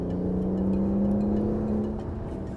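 A BMW 760 Li V12 sedan accelerating under load, its engine a steady, smooth low hum that rises slightly in pitch and then eases off as it shifts, heard from inside the car without talking.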